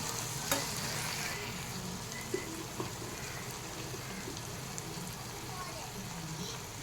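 A bitter gourd masala curry with tomatoes and salt simmers on a low flame, making a faint, steady sizzle with a few scattered clicks and light stirring.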